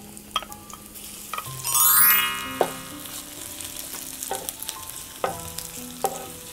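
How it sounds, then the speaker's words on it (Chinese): Ginger and shiitake mushrooms stir-fry in sesame oil with a steady close sizzle, broken by scraping stirs and light clinks of a utensil against the wok, plus a brief louder hiss surge. "用芝麻油来炒香，姜先下来"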